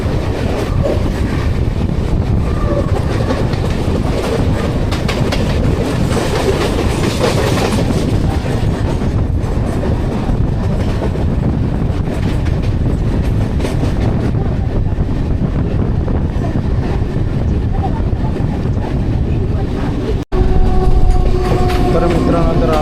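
Mumbai local train on the Vashi–Panvel urban line rolls along with a loud, steady rumble and rhythmic clatter of wheels on rails throughout, close and continuous, with a brief jolt near the end.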